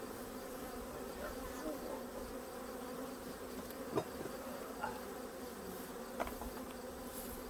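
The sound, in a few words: honey bees buzzing at a beehive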